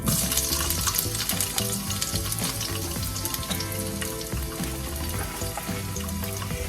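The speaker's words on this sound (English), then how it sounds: "We're going to start by putting some olive oil in our wok. And we're going to go ahead and throw our veggies in." Vegetables frying in olive oil in an electric wok set to medium heat: a dense, continuous close-up sizzle and crackle that holds level throughout, with no voices.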